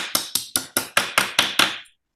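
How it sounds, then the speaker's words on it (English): Metal edges are hammered flat during fold forming, about eight sharp, evenly spaced hammer blows ringing bright and close, each decaying quickly before the next, with no voices. "So I'm just hammering these edges flatter."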